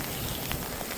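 Icy rain falls during a heavy New York City snowstorm, making a steady, close hiss of drops pattering on snow-covered streets, with a few slightly sharper ticks and no voices.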